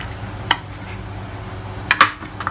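A knife slits a fresh chili in half for Indian chilli chicken, giving a couple of brief, sharp clicks against the cutting surface in an otherwise quiet kitchen.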